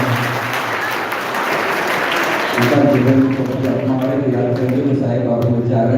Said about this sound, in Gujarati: બેટા એકવાર તાળીઓથી સાહેબને વધાવી લો.